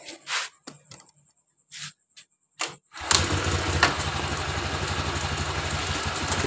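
A Honda Genio scooter with a crackling engine fault cranks in a few short bursts, then fires and settles into a steady, close idle.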